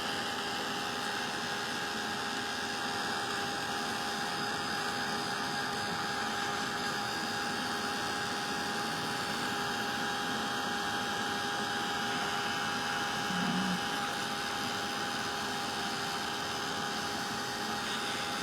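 A heat gun runs steadily at close range during a crafting session with texture paste, giving a continuous airy roar with a faint tonal whine, unbroken and with no voices.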